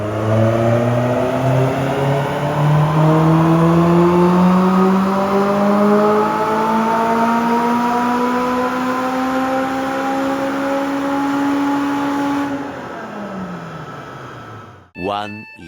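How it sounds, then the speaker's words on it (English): A Honda K20 engine swapped into a Toyota MR-S set up as a small GT3-style racer revs hard and steadily climbs in pitch for a long pull, loud and close, then cuts off abruptly. "we're gonna hear this, this little GT3 racer roar"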